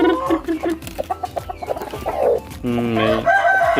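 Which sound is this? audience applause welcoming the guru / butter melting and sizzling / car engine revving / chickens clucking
chickens clucking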